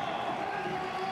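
Crowd cheering at the X Games Chiba BMX street competition: a steady, dense wash of many voices that carries on through the whole short moment.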